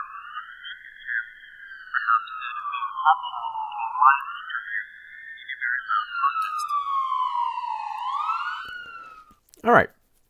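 An ambulance siren wails in slow, rising and falling sweeps, loud and isolated against silence, ending with a sharp thump.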